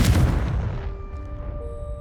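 A Confringo blasting spell explodes in a wizarding video game, giving one loud, close boom that decays into a rumbling tail with faint ringing tones.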